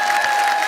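A brief burst of dense audience applause greets a playback singer as she is welcomed onto a stage, a loud, even wash of many hands.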